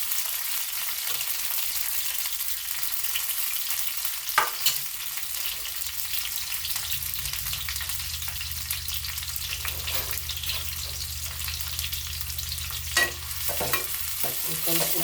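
Onions, green chillies, coriander and mint frying in a pan for curry while being stirred, a steady sizzle with occasional scraping stirs, close and fairly quiet, no speech.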